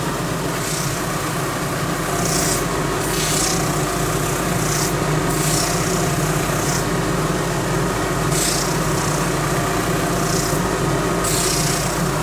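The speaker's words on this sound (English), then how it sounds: "There's Kel working in the background there, rasping handles." A rasp scrapes steadily at wooden cricket bat handles in a workshop, the long strokes repeating in a regular back-and-forth rhythm. The rasping sounds close and loud over a constant background hum, with no one talking.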